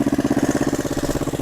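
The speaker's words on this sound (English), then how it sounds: "That carburetor needs to be soaked a lot more. It's running a little lean right now." Three-wheeler ATV engine idling while running lean, a close, steady fast-pulsing putter with an even rapid rhythm and no voices.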